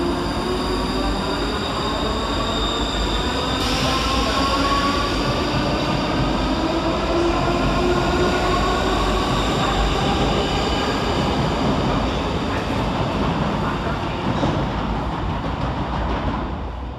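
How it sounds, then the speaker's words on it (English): Scotrail class 334 electric multiple units, a pair of them, departing Glasgow Queen Street station: a loud, steady rail roar with rising motor whine tones and high wheel squeal, continuous and close throughout. "Next out to the station is 334034 and 334010, working the 1722 Scotrail service from Edinburgh Waverley to Milngavie."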